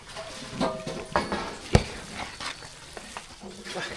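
A spoon stirs tempering through sambar rice in a pot, giving soft scraping and light sizzle sounds with a few sharper clinks against the metal.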